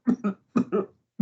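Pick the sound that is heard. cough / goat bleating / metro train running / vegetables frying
cough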